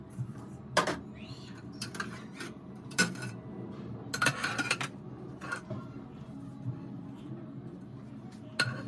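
Home-cooked food is dished onto two plates in a windy setting, with scattered clinks and scrapes of utensils against dishes over a steady background rush.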